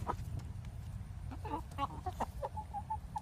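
Chickens cluck and peck at a feast of food, with several birds making short, close clucking calls over a steady low background, and a person briefly speaks.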